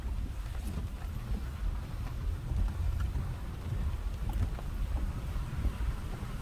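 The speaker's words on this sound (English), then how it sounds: "a little windy today" Gusty wind buffets the microphone in uneven low rumbles, rising and falling over a faint outdoor hiss, with no voices, at North Bend Park Campground in Boydton, Virginia.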